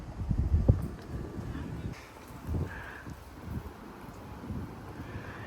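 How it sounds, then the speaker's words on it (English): Strong wind gusts, around 30 mph, sweep past a house in Frisco, Texas, buffeting the microphone with heavy low rumbling bursts, loudest at the start and then easing into an uneven, continuous roar. "That's how strong these gusts are."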